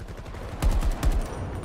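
Two sharp, distant gunshot bursts in the video game Battlefield 2042 ring out over a low, steady rumble, spaced about half a second apart.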